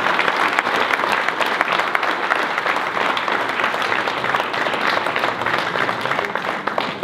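Sustained, dense applause from an audience honouring a women's mountain bike champion at a New Year's greetings ceremony, steady and full throughout with no pauses.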